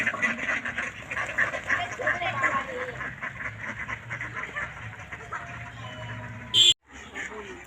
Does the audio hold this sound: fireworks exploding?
no